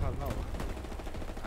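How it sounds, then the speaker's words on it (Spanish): Rapid bursts of gunfire in the World War II shooter game Hell Let Loose, sharp cracks crowding together over a short stretch, with a voice talking over them. "¿Pero quién está pegando tiros?"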